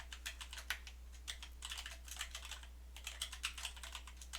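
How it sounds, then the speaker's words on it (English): Rapid, irregular keystrokes on a computer keyboard during Windows Admin Center setup, fairly quiet and close with no voices. "I have to type it in manually."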